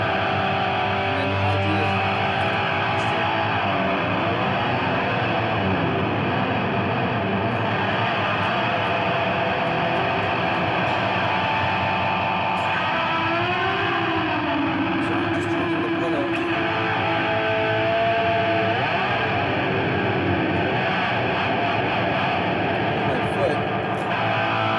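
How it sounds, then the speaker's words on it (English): An electric guitar runs through an Echo Fish echo pedal with its drama switch engaged, giving a dense, sustained wash of repeating echoes and swirling distortion that plays loud and continuous for the whole stretch. "The nice interesting thing about this Echo Fish is we have a drama switch here."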